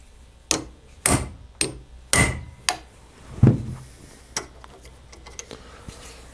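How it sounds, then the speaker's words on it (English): A hammer strikes a rivet on a Knucklehead motorcycle brake lining, six sharp metallic blows in a fairly even rhythm, close up, followed by fainter taps and handling noise. "Now we can finish this rivet right here."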